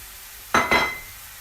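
A spoon scrapes and clinks twice in a pot as ground turmeric and other seasonings are mixed into sautéing St. Lucian dahl, two short close strokes against the metal over a faint background hum.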